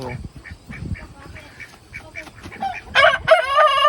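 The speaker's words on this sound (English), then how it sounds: "Chicken going after a duck." Farmyard fowl scuffle as a chicken goes after a duck: repeated clucking and short squawks through the first stretch, then loud, nasal duck quacking bursts in at the end, close by and with no talking.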